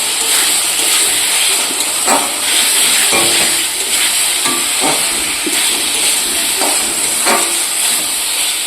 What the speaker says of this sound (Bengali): আবার একটু কষিয়ে নেবেন মশলাটা।